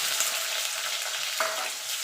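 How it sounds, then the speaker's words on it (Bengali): Cut potatoes go into hot oil with a tempering of bay leaf, dried red chili and whole cumin, giving a steady, close sizzle with a brief spatter midway. "এখানে আলু কেটে রেখেছি, আলুটা দিয়ে দেবো।"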